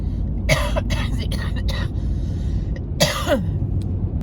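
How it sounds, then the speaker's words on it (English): A person coughs and clears their throat in two loud, raspy bursts close to the microphone, separated by a brief pause. "I was having a coughing fit"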